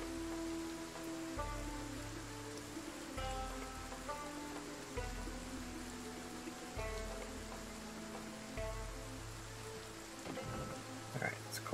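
Steady, faint rain falls outside in cold, wet weather, a soft continuous patter with a low droning hum underneath and no voices.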